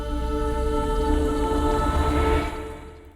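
A musical transition stinger between game stages, built in a Wwise interactive score, rises as a sustained tonal swell with a rumbling low end. It fades out over the last second without any voice.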